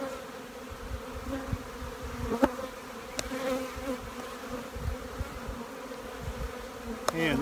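Honeybees at an open hive being fed a pollen patty, giving a soft, continuous close buzz with a few sharp clicks and knocks scattered through it.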